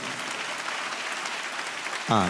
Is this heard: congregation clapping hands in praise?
yes